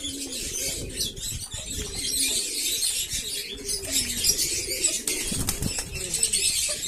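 A flock of mostly white pigeons coos in low, repeated throaty calls close by, with occasional wing flaps and faint chirps over a steady background.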